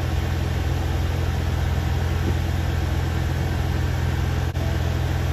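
A car's engine runs low and steady at close range, a continuous hum as the car drives forward and climbs up onto wheel stops, with no talking.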